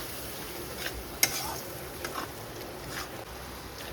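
A tomato and green chilli paste masala being sautéed, a faint steady sizzle with occasional light stirring scrapes and one sharp clink, quiet and close, no talking.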